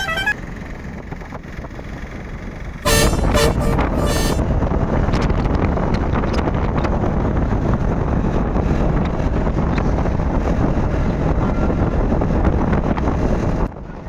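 Steady roar of wind buffeting the microphone while riding a motorbike on a highway from Chennai toward Kothur village, loud and continuous after a sudden rise, with faint horn toots in the mix.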